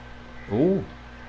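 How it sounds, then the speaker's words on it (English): A single harsh, drawn-out crow caw from a Dreams horror game sound effect rises and falls over a quiet background of low hum. "gotta have crows in Resident Evil"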